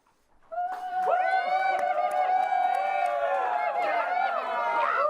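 A studio audience at a sports show cheers and whoops loudly to vote for a contest winner, a sustained roar of voices and shouts that swells in and stays loud throughout.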